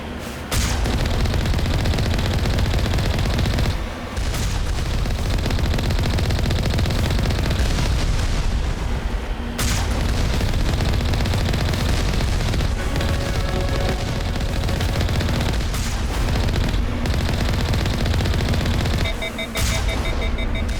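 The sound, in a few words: rockets firing in the video game Mass Effect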